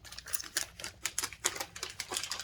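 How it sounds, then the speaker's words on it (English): Plastic packaging from an online haul being handled, rapid crisp crinkling and rustling in quick bursts, close to the listener, with no talking. "But I apologize for the crinkling."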